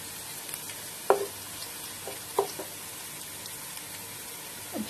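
Onion frying in a pan for a Levantine chicken kabsa, a steady close sizzle throughout with a few sharp stirring scrapes against the pan.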